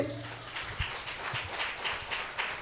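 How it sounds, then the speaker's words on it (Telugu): Church congregation clapping loudly in a series of sharp, irregular hand claps over a steady crowd murmur, with a few stronger individual claps standing out. "గట్టిగా చప్పట్లు కొట్టండి."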